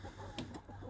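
Hens clucking close by in a farm coop, a steady low cackling with a few sharper squawks and brief bursts, no talking over it.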